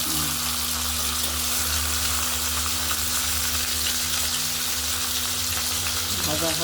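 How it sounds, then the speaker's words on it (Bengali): A rohu fish head fries in hot oil in a wok, giving a loud, continuous crackling sizzle that stays even throughout, with a faint low hum beneath. "মাথাটা আমরা কড়াইতে দিয়ে দিয়েছি গরম তেলের মধ্যে ভাজা হচ্ছে"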